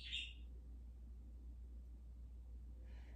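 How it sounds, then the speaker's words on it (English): A bird calls faintly in the background during a back-strengthening and stretching demonstration indoors, two short chirps at the start and end over a low steady hum. "it always seems like we have a bird, as you probably can hear in the background"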